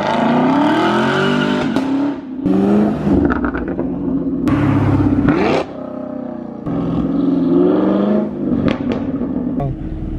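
A sixth-generation Chevrolet Camaro with a Borla ATAK axle-back exhaust drives hard, its loud close engine rising and falling through repeated revs and gear changes, a raspy roar with no talk over it.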